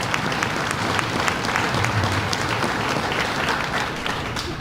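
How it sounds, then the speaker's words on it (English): An audience in an executive chamber at a state exhibit opening applauds in a dense, continuous round of clapping, loud and close, sustained from start to finish. "And another round of applause for Dr. Harris, who put this exhibit togethe"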